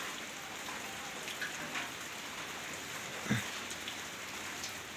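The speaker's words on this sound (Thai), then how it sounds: "ฝนตกตอนนี้" Steady rain falls outdoors in the afternoon in rural Thailand, a continuous even hiss of drops on surfaces with a few louder splats and one nearby thud, no voices.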